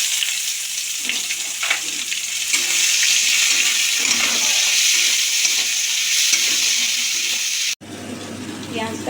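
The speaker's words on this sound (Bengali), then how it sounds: "পেঁয়াজটা ভাজা ভাজা হোক" Chopped onion frying in hot oil with bay leaves and dried red chillies for a spicy crab curry, a loud continuous sizzle with occasional stirring scrapes, cutting off abruptly near the end into quieter room sound.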